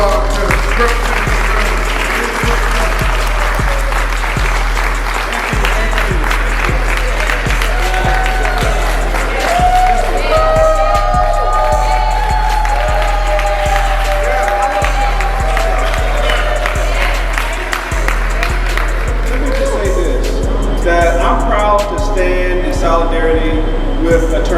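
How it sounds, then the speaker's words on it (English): An audience applauds steadily and loudly for a politician at a justice rally, the clapping continuous throughout with a low rhythmic thumping underneath. "So please, again, give a great applause to Representative"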